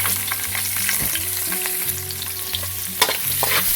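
Garlic and ginger fry and sizzle steadily in a pan while being stirred, with a few sharp clinks of a utensil against the pan. A low background hum runs underneath and no one speaks.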